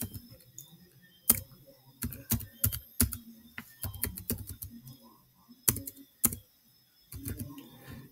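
Fingers type on a computer keyboard at close range in quick irregular bursts of key clicks, with a few sharper taps and short pauses between runs.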